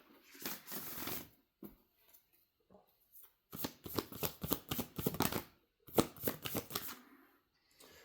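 Moonology oracle cards shuffled in several bursts of rapid riffling flutter, close and fairly loud, separated by short pauses.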